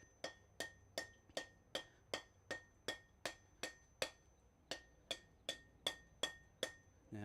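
Blacksmith's hammer striking hot metal in a coal-fired smithy, using the rounded side of the hammer, a steady run of sharp ringing blows at a regular pace, clear and alone.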